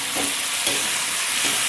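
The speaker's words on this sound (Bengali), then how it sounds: "এবার দিয়ে দেবো পটলগুলো," Pointed gourd pieces go into a frying pan already holding spices and salt, giving a continuous loud sizzle broken by three soft stirring scrapes.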